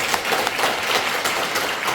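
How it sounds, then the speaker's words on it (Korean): Seminar attendees in a small parliamentary meeting room give sustained applause for a lecturing professor and panelists, a dense, steady patter of many hands, close and fairly loud. "큰 박수 보내주시기 바랍니다"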